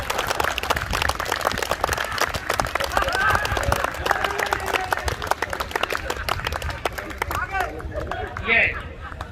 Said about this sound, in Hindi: आप पूरा मुंह खोल के हंसो और खुल के ताली बजाओ, खूब ताली बजाओ